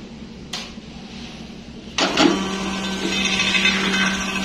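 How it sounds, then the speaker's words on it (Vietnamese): A RING 408PEI+ desktop 203dpi label printer, set up for furniture goods labels, clicks and then starts a steady mechanical whirring hum as labels feed out, near and alone. "Bây giờ em sẽ lập trình in để cho mọi người cùng quan sát chất lượng in tem của chiếc máy in dán hàng nội thất riêng"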